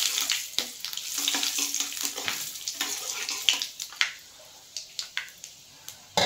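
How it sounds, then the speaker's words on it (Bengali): Dried chilies, a bay leaf and half a spoon of five-spice seeds hit hot oil in a pan, crackling with sharp irregular pops and spits over a soft, fading sizzle. "এবার তেলটা গরম হয়ে গেছে, এর মধ্যে আমি দেখুন ফোড়ন দেব, 2টো শুকনো লঙ্কা, 1 টুকরো তেজপাতা আর হাফ চামচ 5 ফোড়ন"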